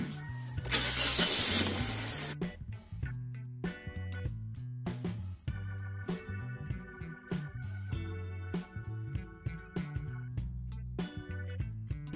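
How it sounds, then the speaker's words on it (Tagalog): A car engine cranks and catches during a power steering fluid flush, a loud burst at the start, then it settles into an idle broken by repeated short knocks and clunks. "Start natin yung makina."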